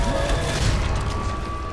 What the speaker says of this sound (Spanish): Vale, ¿no me ha cazado con la explosión?